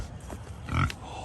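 Pigs at feeding time on a farm let out a brief low grunt over steady background noise, close by, with no speech.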